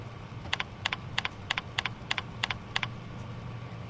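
A computer keyboard is typed on in short paired keystroke bursts, about eight evenly spaced double clicks, crisp and close over a low background hum.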